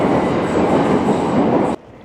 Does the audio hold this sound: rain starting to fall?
no